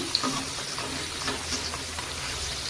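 Drumstick leaf (moringa) fritters frying in hot oil, a steady soft sizzle and crackle that holds evenly throughout, with no talking.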